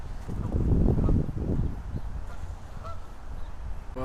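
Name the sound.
geese honking in park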